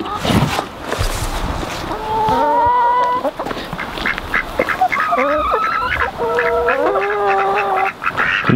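Two male ducks quack repeatedly in a farmyard alongside chickens, the nasal calls coming in bursts at close range over steady background noise, with some bird chatter mixed in.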